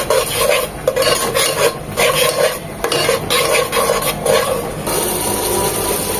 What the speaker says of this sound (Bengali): এগুলো দিয়ে মশলাগুলোকে পানি দিয়ে কষিয়ে নেব।